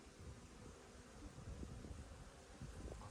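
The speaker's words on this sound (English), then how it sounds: "Lots of bees." Honey bees swarm and buzz around an open hive during an early spring inspection, a close, steady droning hum with no talking.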